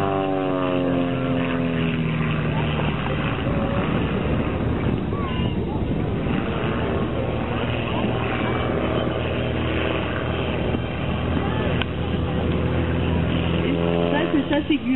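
A Pitts aerobatic propeller plane performs at an air show, its engine droning loudly with rising and falling pitch as it climbs and maneuvers, while an announcer talks over the sound throughout.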